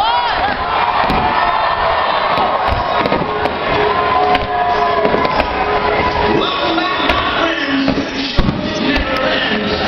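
Fireworks display at PNC Park in Pittsburgh, with a dense, loud wash of crowd cheering and shouting continuing throughout, punctuated by scattered pops and bangs, children's shrieks mixed in.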